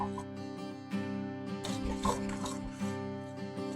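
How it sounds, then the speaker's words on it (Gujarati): Rava sheera, a semolina pudding with ghee, is stirred in a pan, and a spoon rasps and scrapes in repeated soft strokes under a steady musical background. "સરસ બધું મિક્સ કરી દઈએ"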